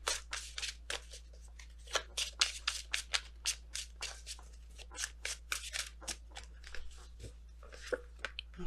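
Tarot cards being shuffled by hand, a rapid run of crisp riffling, slapping bursts repeating irregularly over several seconds, close and fairly quiet over a low steady hum.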